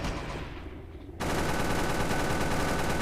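Gunfire from an M2 Bradley in Clash of Panzer: after a second of quieter background, a dense, rapid burst of automatic fire starts abruptly and continues loud and close, rattling without pause.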